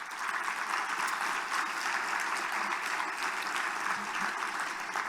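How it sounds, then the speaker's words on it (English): Audience applause at an economic outlook summit in 2022, a steady, dense clapping from a large crowd that holds at an even level for several seconds without pause. "Maybe a round of applause for my team."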